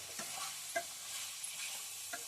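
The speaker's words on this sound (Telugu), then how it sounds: "కారం, కొబ్బరి, మసాలాలన్నీ కలిసే విధంగా ఇలా తిప్పుకోవాలి." Spicy chicken curry with tamarind leaves, chili powder, coconut and masala is stirred in a pan, giving a few soft scraping spoon strokes over a faint, steady sizzle with no voices.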